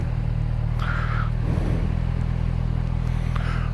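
A Kawasaki motorcycle exhaust idles with a steady low rumble, loud and close, with a couple of brief higher engine swells over the constant throb.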